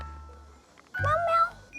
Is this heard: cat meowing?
yes